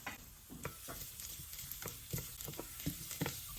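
Sliced garlic sizzles in about a tablespoon of olive oil in a sauce pot, a steady soft crackle broken by repeated stirring scrapes and clicks of a utensil against the pot, with no one talking.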